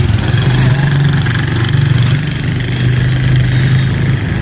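A motorcycle engine idles nearby in an old mosque compound in Indonesia, a steady low rumbling putter that holds evenly throughout without revving.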